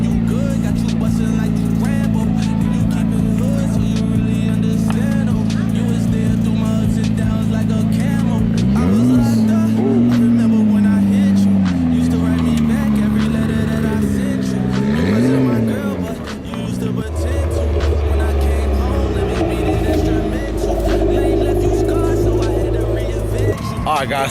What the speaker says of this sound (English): Oh, rev it.